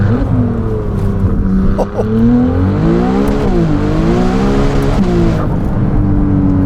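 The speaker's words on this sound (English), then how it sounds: "That is mostly thanks to our turbo inlets and to that Novitec exhaust system." Novitec-exhausted Ferrari 296 GTS N-Largo, a turbocharged 868 hp supercar, accelerating hard with rising and falling engine and exhaust tones through gear changes, loud and close throughout.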